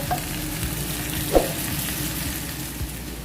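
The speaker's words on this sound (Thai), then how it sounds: "ตอนนี้ แม่กำลังทอดเบคอนนะคะ" Large bacon slices fry in a pan for breakfast, a steady crackling sizzle with one sharp pop and faint low stirring or scraping sounds underneath, close by and without speech.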